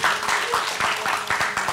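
An audience at a Comika Day 2021 stand-up comedy closing show claps briefly, a short patter of scattered applause at moderate distance.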